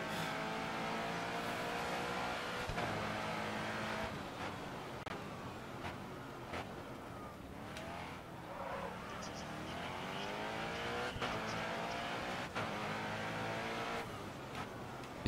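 Race car engine at full throttle in the game GRID Autosport, repeated high-pitched revving that climbs through the gears with sudden shifts and tire squeal, while someone talks over it.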